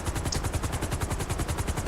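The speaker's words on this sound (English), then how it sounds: "I was getting a helicopter right here" Helicopter in the Grand Theft Auto V video game makes a steady, loud rapid rotor chop, evenly pulsing throughout and close by, with no talking over it.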